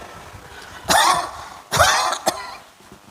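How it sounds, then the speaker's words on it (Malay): Two harsh coughs about a second apart, close and fairly loud, followed by a brief short cough, with no talking. "Orang tua kanlah mulai terbatuk-batuk"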